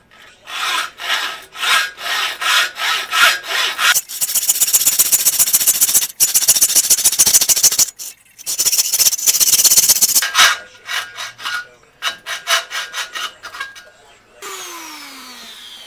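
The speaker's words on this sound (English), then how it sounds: "while we got the hacksaw here, and make this bottom cut" A hacksaw makes a bottom cut through a projector lamp cover, loud rhythmic back-and-forth rasping strokes, brisk at first and then slower and uneven.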